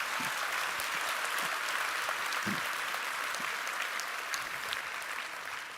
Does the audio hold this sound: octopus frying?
no